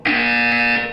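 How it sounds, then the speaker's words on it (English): Buzzer in the Portal 2 video game: a single steady electronic buzz, loud and close, holding for about a second before fading slightly at the end, with no voices over it. "When you hear the buzzer, look down at the floor."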